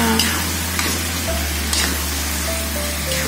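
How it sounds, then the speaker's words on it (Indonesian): Chopped cabbage stir-fried in a hot pan for chicken tongseng gives a steady close sizzle with a few scraping stirs over a low background hum. No voices are heard. "kita masukkan kolnya ya. Kol. Kol. Kolnya sesuai selera ya."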